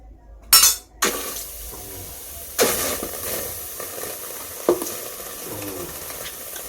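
Chicken frying in a pan with masala and no added oil, a steady sizzle broken by a few sharp bursts and stirring scrapes, close and fairly loud.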